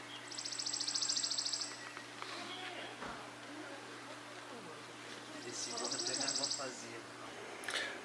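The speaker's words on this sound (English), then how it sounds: "The chipping sparrow keeps getting closer and closer." A chipping sparrow sings two dry, rapid trills several seconds apart on an Appalachian Trail hike in June, close and fairly clear, with faint voices murmuring in the background.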